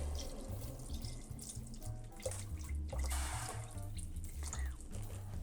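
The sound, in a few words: water poured into a pot for mushroom soup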